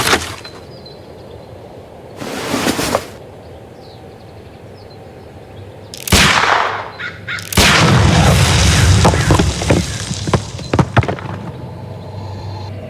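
A sharp pistol shot and blast set off against a package of dynamite in a Sherlock Holmes game, with an earlier crack and crows cawing nearby before a loud, rumbling burst follows.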